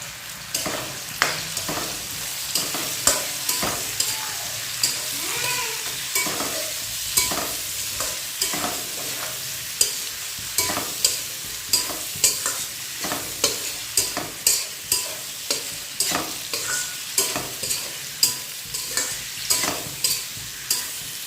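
Onions stir-fried in a pan for a Chinese-style vegetable dish, a steady frying sizzle punctuated by regular spatula scrapes and taps, close and moderately quiet, continuing throughout.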